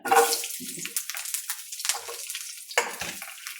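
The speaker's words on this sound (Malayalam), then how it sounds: "അതൊന്ന് മൂത്തോട്ടെ അത് നമുക്ക് മൂപ്പിച്ച് കോരണം" Five or six garlic cloves hit hot oil in a pan, starting with a bright hiss and then settling into uneven crackling bursts and sputters up close.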